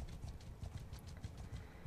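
In the video game Mount and Blade Bannerlord, a horse's hooves clip-clop in a fast, steady galloping rhythm. The sound is faint and continuous under low background rumble, with no talking.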